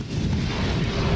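Artillery cannon fire during a military drill, heard as a dense, rumbling low boom with rolling thunder-like echo filling the whole short moment, loud and heavy, with no voices.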